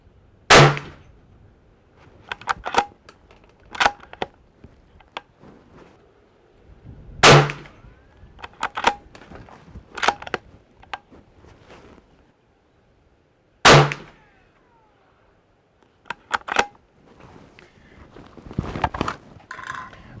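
A CZ 527 American rifle chambered in 300 Blackout fires three loud, sharp reports spaced several seconds apart, with quieter clanks and handling clicks in between, all outdoors with no talking.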